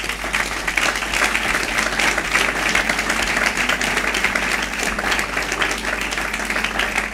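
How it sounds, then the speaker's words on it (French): A congregation applauds at a sermon gathering, giving steady, dense clapping that holds at an even level for about seven seconds, with no one speaking over it. "Acclamez pour vous-même alors."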